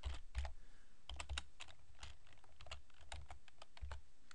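Typing on a computer keyboard, with clusters of crisp key clicks in an uneven rhythm and short pauses between bursts, close and fairly quiet, with no voice.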